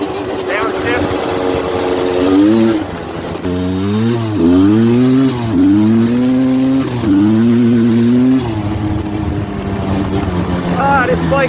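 A 32-year-old Suzuki LT250R ATV engine revs loudly up and down through the gears while being ridden, with rising and falling pitch sweeps and a distinct drop on each downshift, close and prominent.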